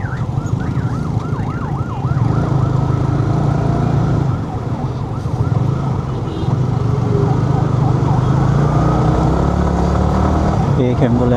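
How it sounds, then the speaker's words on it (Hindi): An ambulance siren wails and sweeps past in traffic, rising and falling repeatedly over a steady rumble of engines, loud and fairly near throughout. "एक एम्बुलेंस वहाँ गई थी भाई"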